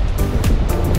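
Pacific Ocean surf breaking on Santa Monica beach in Los Angeles, a steady close wash of waves and rushing water with broad noisy bursts, no talk over it.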